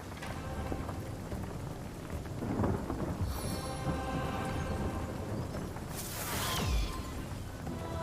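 A rain spell cast in the video game Divinity: Original Sin brings a steady downpour with rumbling thunder, swelling in two louder cracks and rolls over the constant hiss of rain, with no voices.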